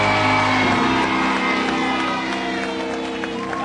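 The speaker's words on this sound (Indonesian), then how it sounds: "tepuk tangan dulu" Indonesian television studio audience bursts into loud, dense applause with cheering and shouts, sustained and close, easing slightly toward the end.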